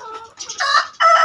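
Rooster calls and clucking in short bursts, fairly close and clear, growing louder toward the end.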